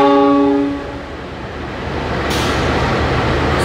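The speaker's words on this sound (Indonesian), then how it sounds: "kereta api Dharmawangsa akan disediakan di jalur 1 yang saat ini sedang dilansir" A Dharmawangsa passenger train at an Indonesian station platform sounds a loud, steady horn blast for under a second, then a broad rolling rumble of the train continues at close range.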